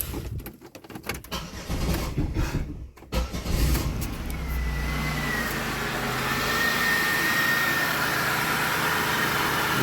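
A car with a MAP sensor fault and pending P0108 code cranks with some whirring and clunks, then catches and settles into a steady, loud idle.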